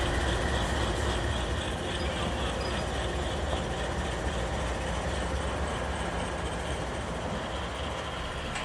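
An HO scale model train rolls steadily along a layout modeling the Saluda Grade, giving a continuous broadband rumble at an even level with no pauses or voices.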